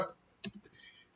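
A few isolated key clicks on a computer keyboard sound close and quiet in a very brief stretch, with short pauses between presses.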